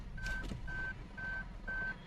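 A Toyota Hyryder hybrid in reverse gear gives four evenly spaced electronic reversing beeps, clear and close over a low background rumble, with no engine noise.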